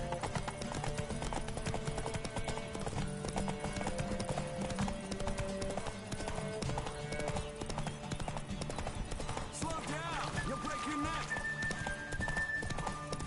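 Horse hooves clip-clop steadily at a gallop in the Witcher 3 video game, with a brief horse whinny and a continuous game music score layered throughout.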